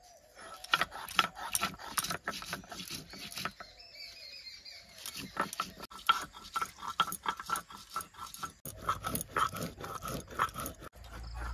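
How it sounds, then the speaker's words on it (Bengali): Dried red chillies and ginger ground by hand for a village-style sea fish curry: close, rhythmic scraping and crushing strokes in quick repeated bursts, a brief pause midway, then steady grinding again, with no talk. "শুকনো লঙ্কা আর আদা বেটে নেবো।"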